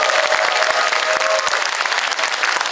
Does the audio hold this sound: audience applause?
yes